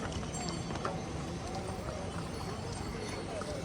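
Horses clip-clop along the crowded Kedarnath trek, hooves knocking in an uneven rhythm beneath a continuous crowd wash, with people talking nearby.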